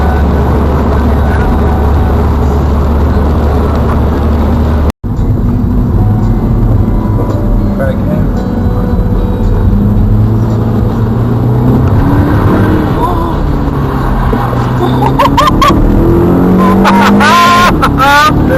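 A BMW 530d car approaching fast on a road, a loud steady engine and road rumble that builds and shifts in pitch toward the end, with people talking over it inside a vehicle.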